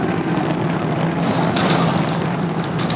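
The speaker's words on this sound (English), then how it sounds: "And we just heard the sonic boom." Distant sonic boom from a descending SpaceX Starship Super Heavy booster, a dull thud rolling under steady broadband crowd and wind noise, fairly loud but muffled.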